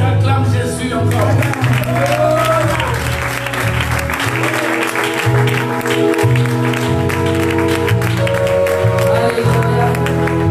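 Church congregation applauding and cheering in praise of Jesus during a sermon, sustained clapping and acclaim over loud sustained music throughout.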